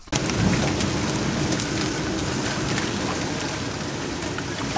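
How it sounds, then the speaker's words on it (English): Heavy rain pours down over a field of sailboats anchored in the Bay of Panama at night, a constant loud hiss of drops on deck and water with low rumbles of thunder beneath. "a storm rolled in"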